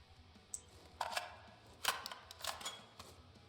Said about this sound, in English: listen to this reload real quick